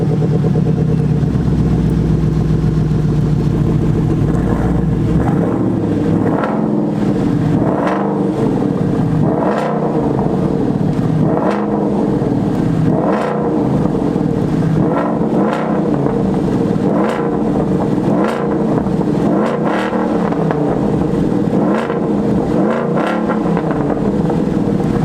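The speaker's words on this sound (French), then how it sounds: "on va vous mettre le son du V8 là tout de suite" A Ford Mustang Boss 302 V8 revs repeatedly, a steady idle rumble broken by a series of about eight regular throttle blips rising and falling, heard close and alone.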